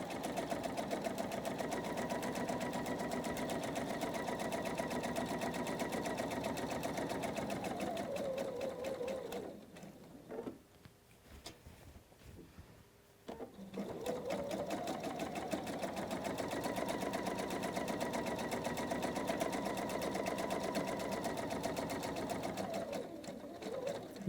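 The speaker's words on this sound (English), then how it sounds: "You can see I'm letting the machine do the work." A sewing machine stitching a quilt row runs in a steady fast whir, stops briefly midway with some small handling noises, then starts again and carries on at the same pace.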